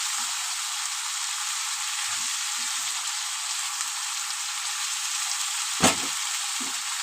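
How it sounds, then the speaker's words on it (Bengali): Cauliflower fries in a pan for cauliflower bharta, a steady hiss of hot oil held at an even level throughout, with a few faint stirring knocks and one brief clack near the end. "এবার আমি একটু ভালো করে ভেজে নেব, যতক্ষণ না মজা আসবে ততক্ষণ আমি ভাজতে থাকবো।"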